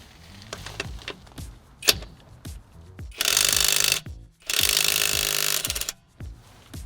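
A WAKYME brushless impact wrench breaks a truck wheel nut loose, firing two loud sustained hammering bursts of about a second each, with sharp metallic clanks and handling knocks between them.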